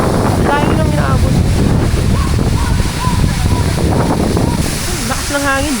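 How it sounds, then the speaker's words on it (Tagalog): Strong wind roars and buffets the microphone on a trek to Hulugan and Taytay Falls in Laguna, loud and continuous, while people talk briefly underneath. "Lakas ng hangin."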